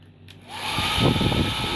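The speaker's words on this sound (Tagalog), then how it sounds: "Mayroon din blower. Ayan. Gumagana rin to." A hair dryer in a hotel room at Chungking Mansions on Nathan Road, Hong Kong, switches on and settles into a loud, steady close-up blowing roar.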